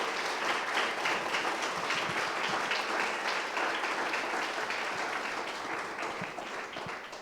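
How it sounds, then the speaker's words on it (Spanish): Sustained audience applause fills a ceramics forum hall in the Sala Montaña, a dense even wash of many hands clapping that holds steady throughout and eases slightly toward the end. "aplauso."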